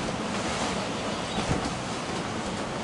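A sailboat driven at nine knots by 23 knots of wind on passage to Gibraltar, in a storm with five-metre breaking waves: a loud, unbroken roar of wind and surging sea with no pauses.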